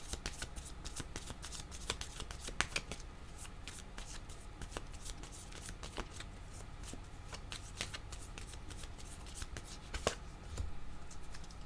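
Tarot cards being shuffled by hand, a steady run of crisp riffling slaps and soft card flutters, close and fairly quiet, continuing alone without talk.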